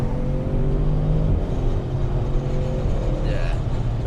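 Audi RS6 C8 with its V8 engine accelerating from inside the cabin, a steady deep rumbling drone that rises in pitch, loud and continuous, with a brief voice near the end.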